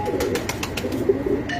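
Rooftop pigeons in Oman coo softly in low, repeated murmurs with a few short flutters and clicks mixed in, close by and steady throughout.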